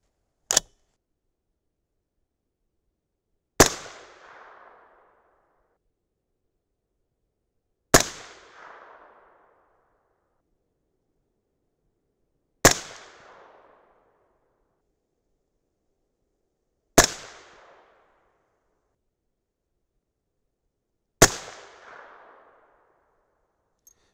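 Six sharp Winchester rifle shots fired at a 100-yard target, each a loud crack with a short decaying echo, spaced about four seconds apart in otherwise quiet surroundings.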